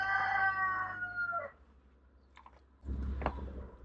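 A guinea fowl perched up high gives a harsh, rising series of calls, loud and close, ending abruptly, followed by quieter scuffling and rustling nearby.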